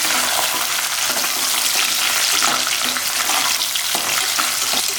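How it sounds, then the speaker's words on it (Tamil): Garlic, shallots and a pinch of asafoetida frying in hot oil, a loud, dense, steady sizzle with close crackling and spitting throughout, no voices. "இதெல்லாமே நல்லா பொரிஞ்சிடட்டும்."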